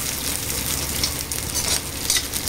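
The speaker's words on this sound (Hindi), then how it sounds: "प्याज डालकर इसे हम ज़्यादा नहीं फ्राई करेंगे, बस 1 से 2 मिनट से फ्राई करेंगे।" Steady sizzling of onions frying in a hot pan for mutton do pyaza, a continuous close crackle with occasional brief stirring scrapes.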